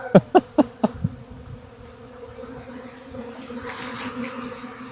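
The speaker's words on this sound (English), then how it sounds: "this is a lot of confused bees is what this is." Many bees around a swarm trap buzz continuously in a close, humming drone, opening with a few sharp knocks before the buzzing swells.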